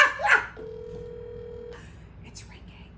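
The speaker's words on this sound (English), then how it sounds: "It's ringing." A telephone call rings through on a video call, a single steady tone lasting over a second, heard after a burst of voices and followed by faint background sounds.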